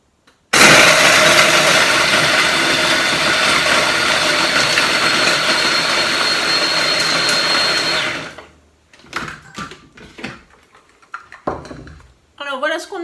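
A food processor running on turbo grinds nougatine into powder with a loud, steady motor whir for about eight seconds. It then stops abruptly and is followed by a few scattered clatters and thumps.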